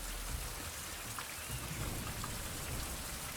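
Heavy rain in the island survival game Survival: Fountain of Youth, a constant dense hiss of drops over a low rumbling thunderstorm undertone, alone without voices.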